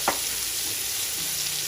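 Chicken leg pieces fry in hot oil in a heated pan, giving a steady, close sizzling hiss from start to end with one brief crackle at the beginning. No one speaks.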